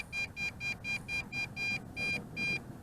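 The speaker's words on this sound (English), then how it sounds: "It is beeping like crazy now." An MJX Bugs 2 SE drone sounds its low-voltage warning in flight: a repeated high electronic beep, roughly nine evenly spaced pulses, fairly faint over a breezy outdoor rumble.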